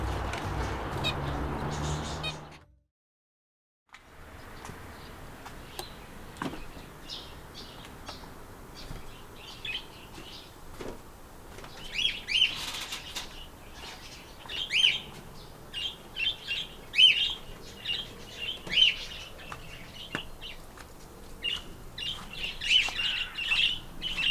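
Finches chirping in an outdoor aviary, many short high tweets and calls scattered irregularly at moderate distance, growing busier over time after a brief low rumble and a moment of silence at the start.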